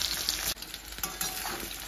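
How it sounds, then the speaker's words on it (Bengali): Onion sliding into hot oil in a wok, a loud close sizzle with stirring scrapes and a brief dip before the frying hiss returns. "তেল গরম হয়ে গেছে কড়াইতে, চলো এবার পেঁয়াজটা দিয়ে দিই"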